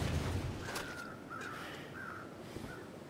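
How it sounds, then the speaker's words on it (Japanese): A crow caws in the mountain-town setting of the survival game The Long Dark, a string of three or four faint, drawn-out calls heard at a distance over a low ambient hum. "あのカラスの鳴き声は、"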